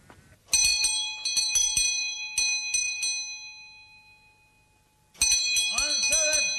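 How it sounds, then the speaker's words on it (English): A bell rings out loudly in several quick strokes, its tone fading into quiet before another burst of ringing starts again. "Answer that bell, someone you."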